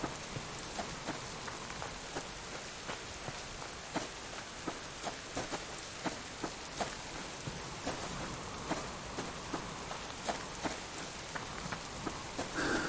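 Heavy rain falling outdoors, a dense steady hiss with sharper drops and drips landing on a surface at irregular intervals, loud and close throughout, with no voices.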